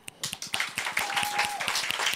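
An audience claps in a fast, steady rhythm near 120 BPM, measured on an applause meter. The claps are sharp and even, with a brief steady tone sounding partway through.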